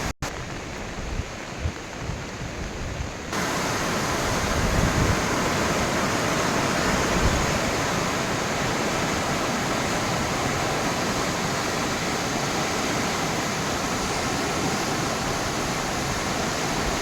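The swollen Roshi river roars past in flood, a dense continuous rush of turbulent water. The roar is somewhat muted at first, then turns loud and close and holds steady for the rest of the clip.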